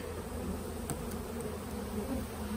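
Honeybees buzzing steadily inside an open double-deep hive topped with a medium honey super, a continuous close hum from a weak colony with no talk.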